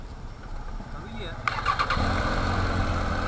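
A Triumph Tiger motorcycle fitted with an Arrow exhaust cranks and fires up, catching about halfway through and settling into a steady, close idle rumble, with voices talking nearby.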